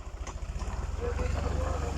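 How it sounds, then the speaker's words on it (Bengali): A power tiller engine arriving at a paddy field chugs with a rapid, regular low pulse that grows stronger partway through, close by and steady. "পাওয়ার টিলার এসে গেছে, জমিতে চাষ দেওয়ার জন্য ধান লাগাবো আমি।"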